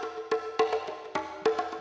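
A percussionist plays a steady rhythm for a warm-up in a Korean singing class, with sharp struck hits at an even pulse over a sustained, ringing tonal backdrop, heard alone with no talk.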